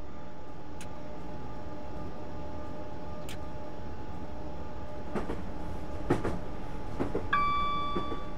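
Train in Train Simulator 2013 rumbles along steadily with a constant low drone, occasional short clicks and hisses, and a brief rising warning tone near the end, no talk over it.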